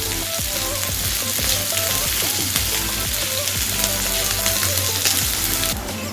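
Chopped ginger and a handful of almonds frying in oil in a pan, a steady close sizzle with scattered crackles and light stirring scrapes throughout, no voices.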